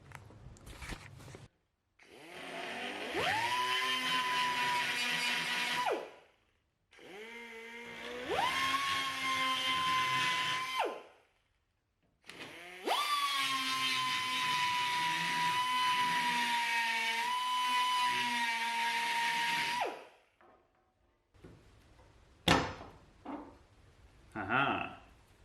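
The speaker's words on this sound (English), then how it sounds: "I think we're going to have to drill out these rivets" A drill bores out rivets on the window hinge bracket of a Saab 900 Classic. The close, whining drill spins up and runs in three long bursts, each separated by brief pauses, and ends with a few scattered knocks.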